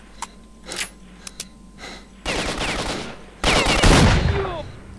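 Gunfire in S.T.A.L.K.E.R.: Shadow of Chernobyl, a few isolated shots followed by two loud sustained bursts of automatic fire with ringing tails, close and dominant.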